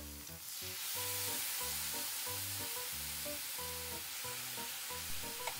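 Anchovies stir-fry in a hot pan with cooking wine, a loud continuous sizzle running throughout, under a repeating background melody.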